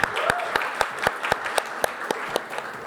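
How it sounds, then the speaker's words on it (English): An audience at a fireside chat on AI marketing gives a warm round of applause, continuous clapping with regular sharp accents from nearby hands, fairly close and moderately loud throughout. "big round of applause"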